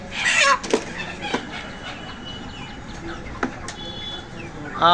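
Broiler chickens at a busy poultry market cluck and squawk nearby in short bursts over a constant low crowd hum, ending on a louder call.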